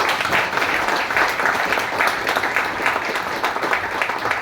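An audience at the launch of the book 'Atal Gatha' gives loud, sustained applause during a speech by education minister Ramesh Pokhriyal. Dense clapping continues evenly throughout, close and full.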